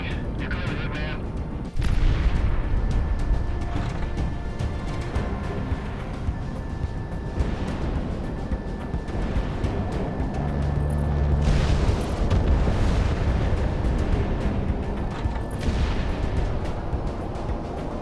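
Heavy explosions and booming blasts as ground units are destroyed in the Project Wingman combat flight game, rumbling over continuous jet and battle noise across the whole stretch, with several loud bursts.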